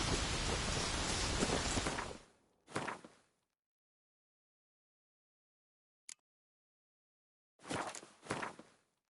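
Rain falls in a video game, a thick rushing downpour that cuts off abruptly, then returns as a couple of short bursts and a single sharp click with silence between.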